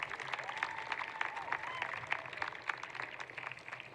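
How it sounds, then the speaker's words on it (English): Applause from a graduation crowd at Somerville High School for teachers and staff, a steady scattered patter of clapping heard from a distance at moderate volume, with faint voices mixed in. "let's give them also a round of applause"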